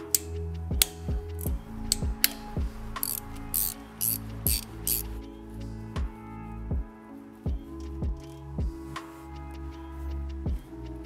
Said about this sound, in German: So, dann schrauben wir mal den Kipphebel raus.